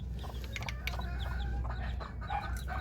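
Hen Mayona clucks softly among her newly hatched chicks, with faint peeping and brief bird calls over a steady low background rumble, close and continuous.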